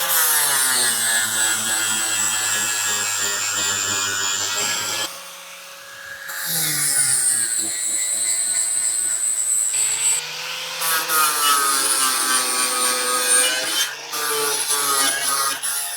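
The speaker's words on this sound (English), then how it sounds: "one of these grinders with one of these sanding wheels on it makes really short work of it" A grinder fitted with a sanding wheel scrubs a metal shovel blade, its high, whining drone grinding steadily. It drops away briefly twice, then returns loud and close.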